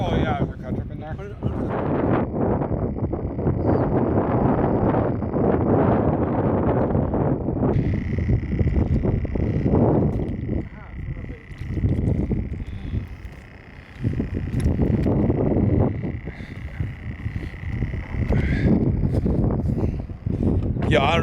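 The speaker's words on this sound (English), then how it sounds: "I don't know if you guys can hear me with the wind" Strong wind buffets the microphone on a lake during a pike fishing trip, a loud continuous roar with voices talking over it and a steady whining tone in the middle stretch.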